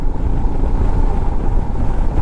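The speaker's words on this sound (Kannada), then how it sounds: "ಭಾಳ ಕೆಟ್ಟ ಗಾಳಿ ಬಿಟ್ಟದ" Strong wind roars and buffets continuously on a mountain road in Ladakh toward Kargil, a loud low rumble with gusty fluctuations and no voices.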